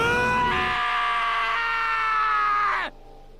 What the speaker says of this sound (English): I heard screaming.